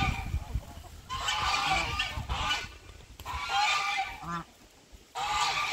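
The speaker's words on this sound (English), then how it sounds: "Those geese are so loud." Geese honk loudly and repeatedly in raucous overlapping bursts outdoors, with brief pauses between the noisy calls.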